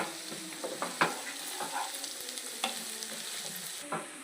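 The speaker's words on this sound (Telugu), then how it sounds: "ఇది బాగా వేగాలి. ఆయిల్లో పచ్చి వాసన పోయేంత వరకు బాగా వేపుకోవాలండి." Fresh homemade ginger-garlic paste fries in oil with a soft, quiet sizzle, broken by several light spoon scrapes and taps against the pan as it is stirred.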